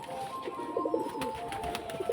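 Soft pigeon coos, a short run of three low throaty notes and a couple more later, over a quiet background hum.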